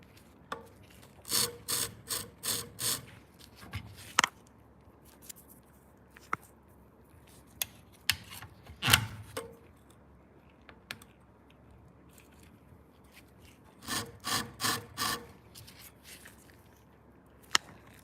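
A knife, scissor or pruner blade drawn across a sharpening stone in short bursts of rapid, gritty rasping strokes, separated by quiet pauses and a few sharp clicks, close and fairly loud.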